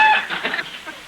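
A distant rooster crows once near a farm, faint and brief behind the room's quiet.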